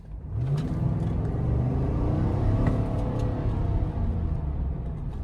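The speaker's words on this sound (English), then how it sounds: "I'm gonna put my foot on the gas all the way" A Chevrolet Tahoe Z71 SUV under full throttle, its engine a loud, sustained rumbling roar with rising revs heard from inside the cabin, steady for the whole stretch.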